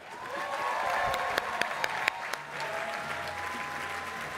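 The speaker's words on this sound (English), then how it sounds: "I want you guys all to give a big round of applause for Senator Amy Klobuchar" Crowd applause for Senator Amy Klobuchar at a union summit, steady sustained clapping from a large audience with a few sharper individual claps standing out, filling the whole stretch without speech.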